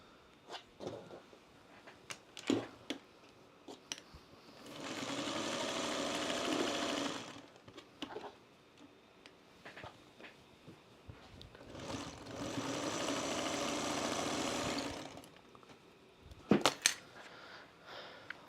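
A sewing machine joins fabric pieces for an Americana quilt block in two separate bursts of steady whirring, each a few seconds long, with quiet clicks and fabric handling between and after them.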